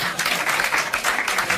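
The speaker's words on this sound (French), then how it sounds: "quelques applaudissements de politesse, mais ça va pas loin" Short, scattered polite applause from a television studio audience, a thin patter of hand claps that rises briefly and fades without building.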